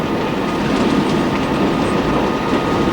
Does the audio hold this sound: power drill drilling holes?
no